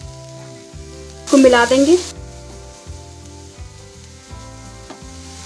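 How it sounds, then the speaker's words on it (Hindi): Finely chopped carrot, capsicum and onion sautéing in a pan, a loud hiss and sizzle bursting up briefly near the start, then settling to a quieter sizzle as a voice talks over it. "सब्जियां अच्छे से भून गई हैं"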